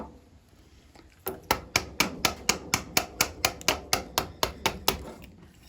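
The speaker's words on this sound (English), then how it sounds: "right now, it's quite unlevel, so that's what we're using the chisels for. So cleaning it up." A sharp chisel is struck in a quick even series of about fifteen crisp taps while cleaning up an uneven wooden ledge on a workbench, close and distinct with no talking.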